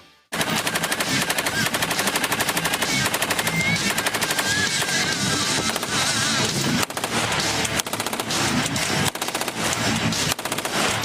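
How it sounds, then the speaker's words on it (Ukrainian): An FN MAG machine gun fires in a long, continuous, loud burst, with rapid evenly spaced shots and brief pauses between strings of fire. "Мак працює по легкій техніці ворога, пробиваючи бронеплиту товщиною в 10 мм."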